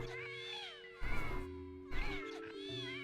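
Two cats meowing in a home, a few drawn-out complaining meows one after another, fairly close and clear over a quiet background with game music.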